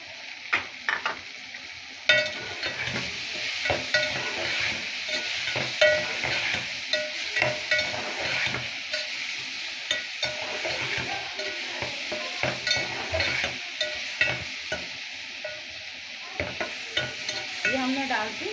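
Capsicum stir-fries with softened tomatoes in a pan for a macaroni dish, steady sizzling broken by repeated scraping and clinking stirs, close and with no talk.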